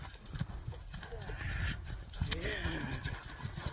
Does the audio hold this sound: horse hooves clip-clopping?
yes